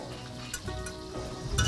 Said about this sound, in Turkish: Soğan birazcık kavrulduktan sonra malzemelerim hazır zaten